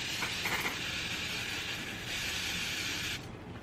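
Grape water misted from a spray bottle onto a makeup beauty blender, a soft steady hiss that runs for about three seconds before cutting off, fairly quiet and with no talking.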